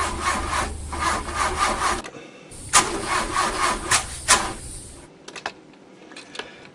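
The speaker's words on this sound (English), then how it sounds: "You go to start your car and you crank it," A car engine cranks repeatedly but fails to start because of a dead battery, giving a rough, rhythmic grinding in bursts with short pauses between attempts, close and fairly loud.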